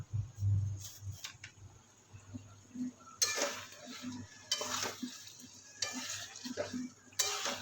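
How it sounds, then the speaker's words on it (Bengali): Kashmiri red chilli, coriander powder and cumin powder frying in a pan with a soft, intermittent sizzle, broken by sharp metallic scrapes and clinks of a spoon stirring at irregular intervals. "মশলাগুলো দিয়ে এবার ভালো করে কষাতে হবে"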